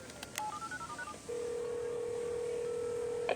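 Touch-tone telephone dialing a number in a cartoon scene, a quick run of distinct beeps followed by a steady ringback tone, with small clicks at the start and end.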